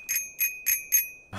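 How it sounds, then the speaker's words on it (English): A bicycle bell in Untitled Goose Game rings four times in a quick, even sequence, bright and close, followed by a short low thud at the end. "Can you imagine if you forgot to ring the bell?"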